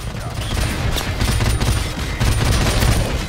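Dense, sustained automatic gunfire and battle noise from the Call of Duty Modern Warfare Remastered video game, loud and continuous in a rapid fusillade that fills the whole stretch.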